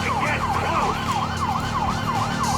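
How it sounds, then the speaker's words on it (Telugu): A police siren from the video game GTA 5, a loud rising-and-falling wail repeating in quick cycles over a low engine rumble. "సైరన్ వినిపిస్తే వాళ్ళే ఆగుతారు"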